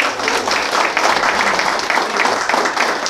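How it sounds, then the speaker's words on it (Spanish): Applause from guests at a 50th birthday party, brisk rhythmic clapping that pulses steadily and fairly close, with no voices over it. "Fuerte los aplausos para la compañera."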